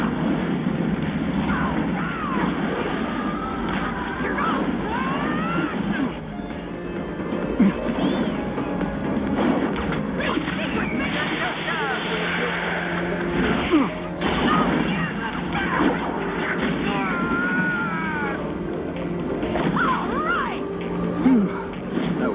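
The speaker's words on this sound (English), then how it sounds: "Fire style, Fireball Jutsu!" A Fire Style Fireball Jutsu attack in the anime fighting game Naruto Shippuden Ultimate Ninja Storm 2, with roaring blasts, crashes and impacts layered over busy battle effects, game music and intermittent character voices.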